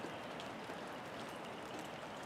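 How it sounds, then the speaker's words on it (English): Light rain sprinkling outdoors after a downpour, a faint, steady patter of scattered drops with no voices. "It's only sprinkling right now, so they're finally getting a break."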